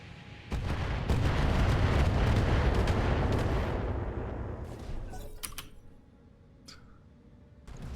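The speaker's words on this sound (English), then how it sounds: "More missiles incoming." Missiles slam home in the Battletech mech game, a heavy roaring barrage of explosions that swells, holds loud for several seconds, then fades into scattered sharp cracks and softer rumbles.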